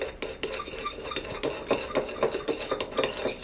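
A spoon stirs a sauce of ginger, garlic and vinegar in a bowl, with a steady run of close clinks and scrapes against the dish and no talk.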